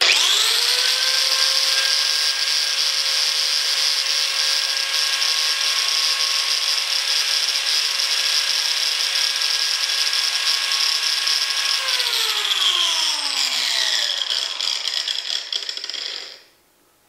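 A 4.5-inch angle grinder whines loudly and steadily on its own for about twelve seconds, then its pitch sinks as it spins down and falls quiet at the end.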